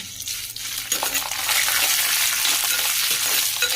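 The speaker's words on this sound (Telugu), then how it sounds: "చూడండి, వేగిపోయాలి, బాగా వేగిపోయాయి అప్పుడే." Dried red chilies, cumin and a few fenugreek seeds frying in hot oil for a pachi pulusu tamarind dish, a steady loud sizzle with crackling spatters and stirring scrapes throughout, growing fuller after the first second.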